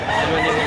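A brief, loud burst of a rooster's crow cuts through a busy outdoor chicken market behind SM City Lipa in Batangas, with no talking over it.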